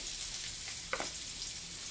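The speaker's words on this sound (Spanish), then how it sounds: "para dorar" Onions browning in oil left in the pan after seitan was fried, a dense, even hiss with one brief scrape of a utensil midway.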